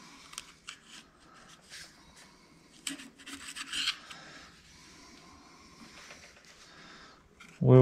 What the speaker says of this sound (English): Let's go ahead and carefully remove this gasket.